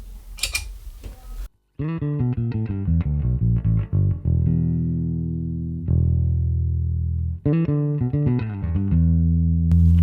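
A bass guitar through the Neural DSP Nano Cortex Bass Clean preset, an Aguilar amp into an 8x10 cabinet, plays a clean riff with plucked notes and sustained low tones, separated by a brief pause, clear and close.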